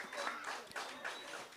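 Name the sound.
audience round of applause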